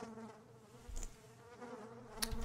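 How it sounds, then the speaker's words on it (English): A steady, close, low insect buzz drones through an indie game's ambience, with a couple of brief clicks and no talking. "Keep buzzing. Keep buzzing."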